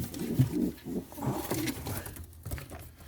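A domestic pigeon coos softly in low, rolling bursts, close by in a quiet room, with faint background rustling between calls.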